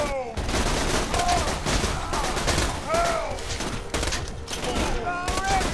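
Pistol fire in the shooter game Borderlands 2: repeated sharp shots crack out in quick bursts over a busy game soundscape, with chirping weapon and effect sounds between them.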